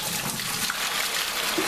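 About half a gallon of very hot water poured for homemade winemaking, a loud, continuous close splashing and trickling.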